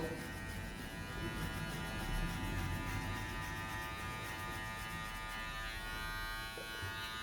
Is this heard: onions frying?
no